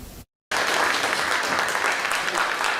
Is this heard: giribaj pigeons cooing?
no